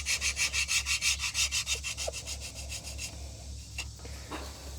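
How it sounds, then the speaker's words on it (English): A small carbide scraper rasps across an engine block gasket surface in quick, rhythmic strokes, close and fairly quiet, before easing into lighter, irregular scraping and faint clicks. "surface prep the block for the gaskets. This little carbide scraper."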